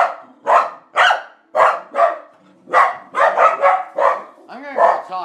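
Dogs bark loudly and close by in a string of about ten sharp barks, mostly evenly spaced, with a few quicker overlapping ones and some yipping whines at the end.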